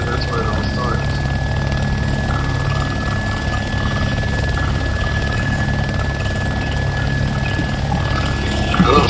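Helicopter in the video game ArmA 2: Operation Arrowhead, a steady loud rotor and engine drone that holds throughout, with people talking over it.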